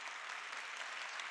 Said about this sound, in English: Could you just clap your hands for all those who responded? A big applause.